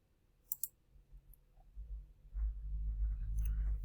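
A computer mouse gives a quick double click, close and crisp, then a low rumbling hum builds in the background with no talking.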